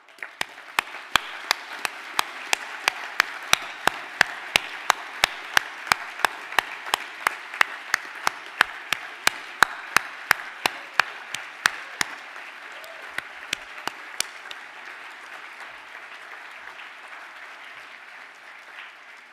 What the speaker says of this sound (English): Now I would like to ask the entire class to stand for a round of applause